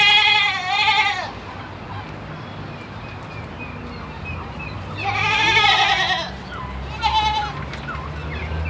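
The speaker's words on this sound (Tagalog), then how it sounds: "Alaga ng papa ko mga kambing." Goats kept on a family farm bleat in a few loud, wavering calls, one near the start and a longer pair later, over steady outdoor background noise.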